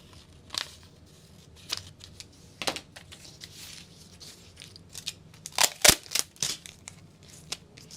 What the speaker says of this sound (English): So I can just cut off that extra piece